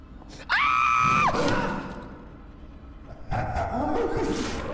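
In a horror video game set in an asylum, a man trapped in a jail cell screams loudly to be let out in two long, strained cries, with a quieter stretch between them.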